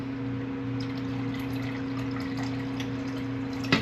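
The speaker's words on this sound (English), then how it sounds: "I think I'm going to go ahead and add some water." Steady running water pours into a pot of marinara sauce, a continuous even stream with a low hum beneath and a brief clatter near the end.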